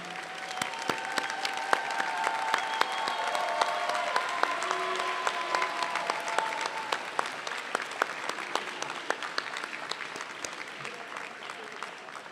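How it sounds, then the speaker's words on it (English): A room of dental students at a white coat ceremony applauds their families, steady loud clapping with sharp individual claps and some cheering voices throughout, fading slightly toward the end. "they're going to give you a round of applause, to the parents, the brothers, the sisters, the spouses, the partners"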